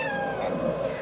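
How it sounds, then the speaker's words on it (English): A house cat gives a single drawn-out meow at Halloween, close and clear, lasting about a second with nothing else heard. "Just for Halloween, you almost got to see our real cat."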